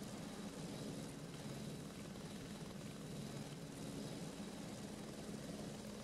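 Helicopter in the background of a wet-weather sim race at Brands Hatch, heard as a steady low rotor drone with a faint engine whine, continuous and distant with no voices over it.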